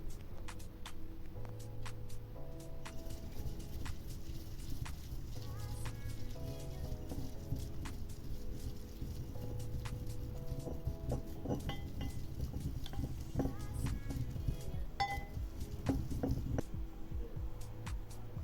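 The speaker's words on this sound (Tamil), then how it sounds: "காரம், உப்பு, புளி எல்லாம் சேர்த்து நல்லா அரைச்செடுக்க வேண்டும்." Chilli, salt and tamarind are ground into a masala for a Batticaloa-style chilli cassava fry. A steady, close rubbing and patter runs for the whole stretch with no talk.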